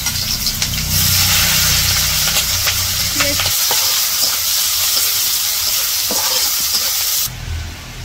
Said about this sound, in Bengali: পেঁয়াজ কাঁচা মরিচ ভাজা হয়েছে।